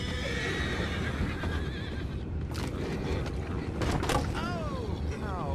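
A horse whinnies in a long wavering call, followed later by shorter neighs, over a steady rumbling background with some clattering sounds.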